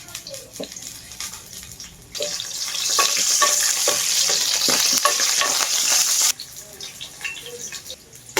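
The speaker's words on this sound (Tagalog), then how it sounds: "Habang ginigisa muna natin ang mga sangkap" Onion sautés in hot oil, a soft crackle that swells into a loud, hissing sizzle in the middle stretch before dropping back to quieter frying with scattered pops, with no speech.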